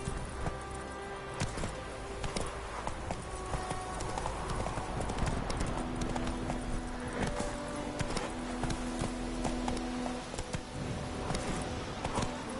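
Horse hooves trot with a steady clip-clop rhythm in The Witcher 3 video game, close and continuous over an ambient game soundscape with faint tonal music, no talking.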